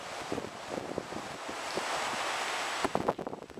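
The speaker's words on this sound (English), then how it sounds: "Oh, just listen to the surf." Ocean surf rolling onto a Florida beach by a beach house, a steady close wash of breaking waves mixed with wind buffeting the microphone, with no talking.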